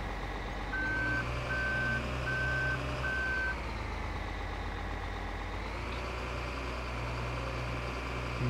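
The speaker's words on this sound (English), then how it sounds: "I'm just going to drive right up and over the little bit of silage that we have left here" A farm feeding truck reverses with a run of four steady, evenly spaced warning beeps over its close idling engine, then the diesel keeps humming as it drives forward.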